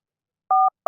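Two dual-tone keypad beeps from a telephone being dialed, one held about a fifth of a second, the next starting just as the clip ends; clear and close, with no talking.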